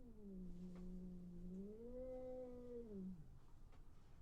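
Cats caterwauling outside a window, apparently squaring off to fight: one long, loud, wavering yowl that rises and falls over about three seconds, then fades, with no talk.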